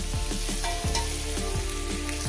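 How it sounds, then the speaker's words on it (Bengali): Eggplant and tomato fry in a pan with spices, a loud, steady sizzle close up, broken by repeated scraping strokes of stirring at a regular rhythm. "এটাকে আমি ভেজে নেব মিনিট করে ভেজে নেব তিন চার মিনিট করে"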